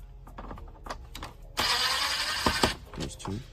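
Phillips screws being backed out of the center dash piece of a Dodge RAM, heard as close ratcheting clicks and scraping mechanical turns, with a denser burst of gritty turning in the middle; no talking.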